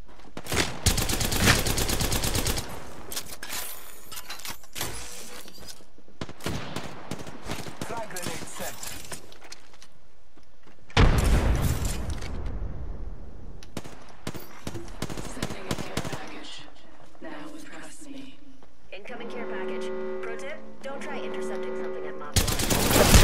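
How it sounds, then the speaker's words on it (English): Bursts of loud video game gunfire in Arena, rapid automatic volleys and sharp shots arriving in several separate clusters with quieter gaps between, ending in a different tonal sound effect. "I am taking fire."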